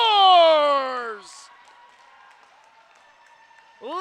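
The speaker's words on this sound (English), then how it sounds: "Listen to this crowd salute Team Central as Michael Carreri gets them on the board here in the semifinals" A crowd at a sledge hockey semifinal at the 2020 Ontario Winter Games applauds and cheers after a goal. The sound is a faint, steady roar in the distance, and a commentator talks loudly over the first second.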